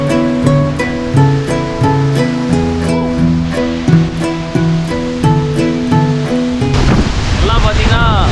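Roaring water at Jogini waterfall near Manali surges in as a loud, steady broadband rush during the last second or so, after a stretch dominated by tonal music.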